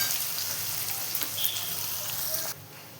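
Tempering with asafoetida frying in a pan for lemon rice, a bright continuous sizzle up close that drops away sharply near the end as the heat goes off.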